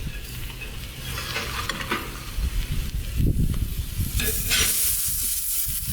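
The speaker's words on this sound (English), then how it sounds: "All right, I'm gonna throw the burgers on, guys." Burger patties sizzle on a hot flat-top griddle, a loud continuous crackling hiss that surges as more meat goes down, with scraping spatula sounds mixed in.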